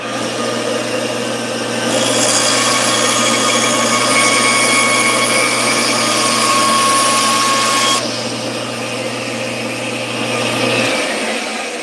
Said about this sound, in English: I'm just going to trim this off real quick on the bandsaw.